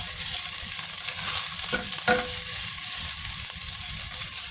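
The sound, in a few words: chopped garlic stir-frying in oil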